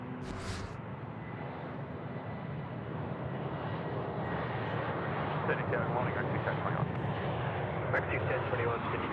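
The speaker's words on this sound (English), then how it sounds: "It's an A330-200 coming in from Perth." An Airbus A330-200 airliner arriving from Perth roars past at Sydney Airport, its engine noise building and growing louder and fuller over several seconds, with faint voices in the background.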